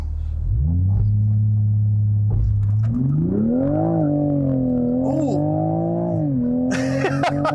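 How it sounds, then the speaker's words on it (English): A Toyota Supra with an 8-speed automatic and rear-wheel drive launches from a standstill, its engine holding a steady rev then surging and climbing through the gears, loud and close, with a brief exclamation from an occupant. "let's try a launch control really quickly in this car"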